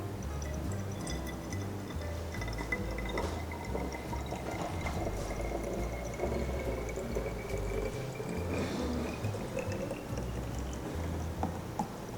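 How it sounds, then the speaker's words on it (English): A drink is poured into a bulb-shaped glass, giving a continuous trickling, gurgling liquid stream with small clinks, steady and fairly close throughout, with no speech. "I'm gonna pour the drink inside this dil bulb"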